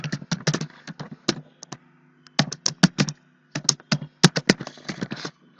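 Typing on a computer keyboard: quick clusters of crisp, close key clicks in irregular bursts, with a short pause in the middle, and no talking.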